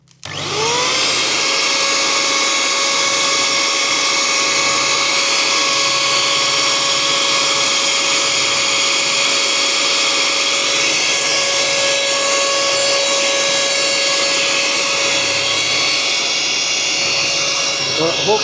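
Steady roaring blast of a heat gun or torch drying freshly sprayed Vauxhall Platinum Silver paint on a car side repair, starting abruptly and holding a loud continuous whine with a strong high tone throughout.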